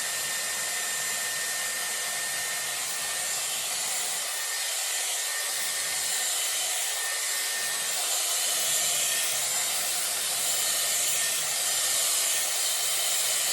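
Dyson Airwrap with round brush attachment blow-drying hair: a steady, loud broadband whoosh of airflow that runs continuously throughout, with no voices.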